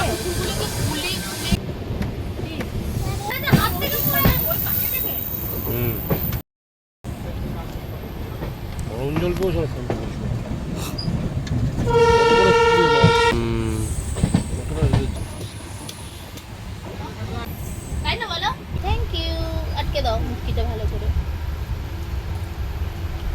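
A Saraighat Express passenger train in Assam runs steadily with a continuous rumble and occasional high wheel squeals and hiss, while people talk over the noise throughout.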